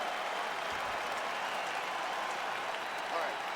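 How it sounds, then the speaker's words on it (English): Spectators at a women's mixed martial arts fight applaud in a steady, broad wash of clapping that holds evenly throughout, heard from a distance with a commentator's voice faintly in the mix. "Huge response from the crowd."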